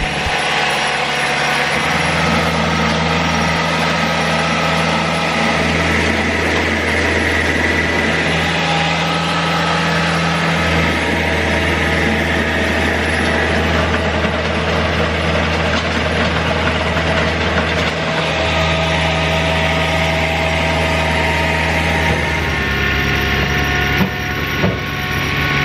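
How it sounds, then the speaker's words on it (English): A loud, steady tractor engine rumbles close by without pause, a heavy mechanical drone that shifts slightly in pitch as it runs, while tilling soil in a high tunnel greenhouse. "now we're going to fire up the tractor"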